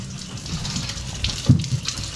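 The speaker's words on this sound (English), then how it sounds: "Looks like we're getting some water." Water rushes back into a house's plumbing after the supply is turned on, a close, steady gushing flow like a running tap with a slight surge midway.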